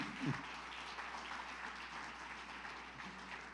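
A church congregation applauds throughout a celebration service, with steady, dense clapping filling the room at even loudness from start to finish.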